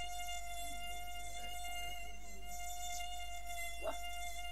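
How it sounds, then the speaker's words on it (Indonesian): A mosquito buzzing sound effect during a livestream, a thin continuous high whine that wavers slightly in pitch, heard alone over a steady low hum. "Ada suara nyamuk. Itu nyamuk."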